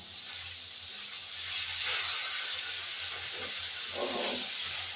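Bhola fish frying in oil in a pan just after being flipped, a steady close hiss and crackle that swells slightly, with no talk over it.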